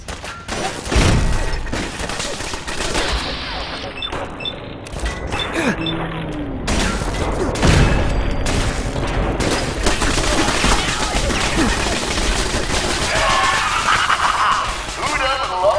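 Explosion in Fallout 4's Nuka World, a loud booming blast within continuous gunfire, crashing and clattering combat noise, with voices talking over the chaos throughout.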